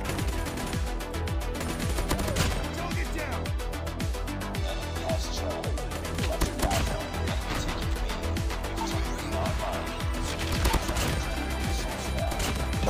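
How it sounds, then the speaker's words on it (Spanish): Rapid gunfire crackles throughout a Call of Duty Mobile match, shots fired through smoke from a submachine gun, with dense bursts of sharp reports and impacts piling up loud and close without pause. "Qué bueno ese disparo a través del humo."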